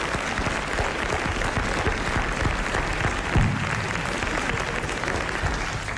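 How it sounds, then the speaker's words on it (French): A French television studio audience applauds in a steady, dense burst of clapping that fills the room and continues without pause. "je vais vous demander d'applaudir monsieur Nicolas Jacques de Reims"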